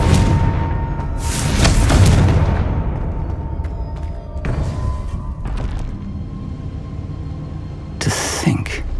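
A Confringo blast spell in the Hogwarts Legacy video game, in an underground trial: a heavy booming explosion near the start with a rumbling tail, followed by scattered thuds and a sharper burst near the end.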